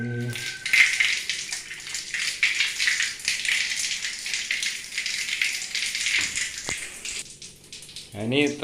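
Steady broadband rush of water flowing from a tap after clearing a clogged water pipe, continuous and fairly loud, with a few brief clanks and a voice joining near the end.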